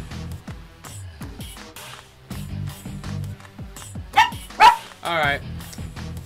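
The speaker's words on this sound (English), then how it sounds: "Speckles, don't you start barking." A small dog named Speckles yips and barks in a few short, sharp bursts near the end, over ongoing animated cartoon dialogue and music, with a person talking as well.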